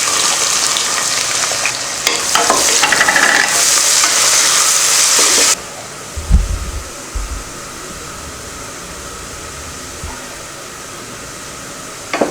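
Onions dropped into hot oil already frying whole spices in a pan: a loud, bright sizzle for the first half, then a softer steady hiss with a few low thumps of stirring.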